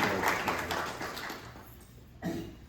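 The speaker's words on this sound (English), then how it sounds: "So give him a round of applause" Audience applause for a pianist at a lecture-recital, a soft blended patter of many hands heard at a distance, thinning out and fading over a few seconds.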